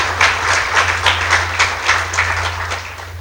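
An audience applauds guests at a gathering, with loud, close hands clapping in regular pulsing waves that keep going throughout.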